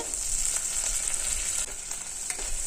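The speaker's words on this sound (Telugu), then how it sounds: "క్యారెట్ ముక్కలు వేసేసుకోవాలి దీనిలోకి ఒక టమాటాని ముక్కలుగా కట్ చేసి వేసుకోవాలండి" Carrot and tomato pieces hit a hot khichdi pot and give a steady, faint sizzle with a few soft stirring scrapes.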